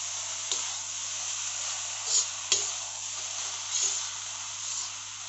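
Maggi noodles with eggs, onion and rice fry in a pan while being stirred, a soft continuous sizzle with a few sharp scrapes and clinks of the spoon against the pan.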